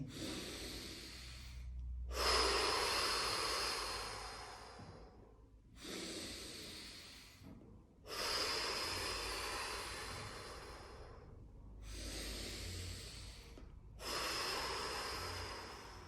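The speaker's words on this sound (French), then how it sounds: "prendre 3 profondes respirations" Slow deep breaths during a sophrology relaxation exercise: several long, close inhales and exhales in a steady rhythm, each separated by brief quiet pauses, with no talking.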